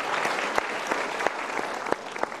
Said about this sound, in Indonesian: Kita berikan tepuk tangan untuk jawabannya.